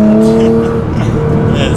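A Nissan GT-R accelerates hard, its engine note loud and close with steady rising harmonic drone; a voice may be faintly present beneath the engine.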